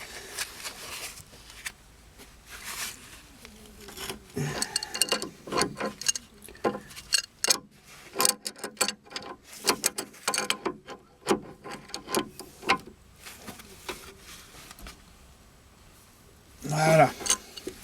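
Ratchet and wrench tightening a tie rod end nut on a car, with a run of clicking and clattering metal strokes, some faint talk, and a louder burst near the end.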